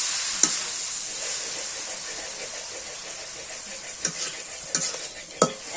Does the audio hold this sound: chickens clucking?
no